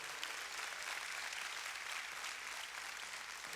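A church congregation applauds, and the steady, even clapping of a large crowd fills the room at a moderate distance with no voices over it.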